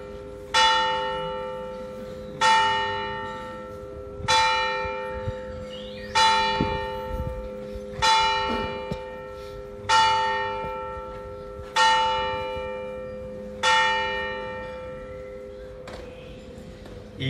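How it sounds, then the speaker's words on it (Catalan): Church bells in Sitges ring out in a slow, steady series of eight loud, resonant strikes, each fading into a humming decay before the next, repeating the hour. "Espera un momentet que acabi de repetir les campanes."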